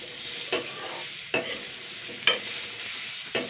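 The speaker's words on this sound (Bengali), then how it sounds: "এইবার আমি কাঁচা টমেটো আর মুসুর ডালটা জাস্ট আমি আগে 2 মিনিট মতন হালকা একটুখানি নেড়ে চেড়ে নেবো" Raw tomato and masoor dal being stir-fried in a pan, giving a low steady sizzle broken by four sharp spatula scrapes at roughly one-second intervals, close by with no voices.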